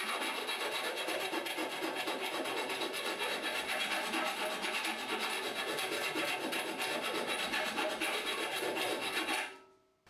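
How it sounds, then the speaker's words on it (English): A hand deburring tool meant for copper pipe scrapes the burr from the cut end of steel conduit, producing a continuous close, gritty rasping scrape that holds steady for several seconds and then stops abruptly. "I'm just going to use this deburring tool, which normally will be used on copper pipe"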